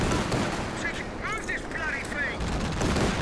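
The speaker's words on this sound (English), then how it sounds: "you can see that artillery just absolutely demolished the house" Artillery fire demolishing a house in the game Company of Heroes 2: a rumbling barrage of blasts and crackling debris, with a few short whistling tones in the middle, loud and continuous under faint battlefield noise.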